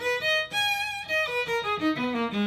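An electric fiddle built by Danny Ferrington in LA plays a short melodic phrase of sustained bowed notes, bright and close, alone with no talk.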